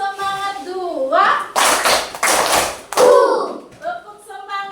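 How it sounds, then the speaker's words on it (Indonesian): Grade 4 classroom children clapping a rhythmic spirit-clap pattern in short loud bursts, with a voice and children's voices chanting around the claps. "Tepuk semangat 2."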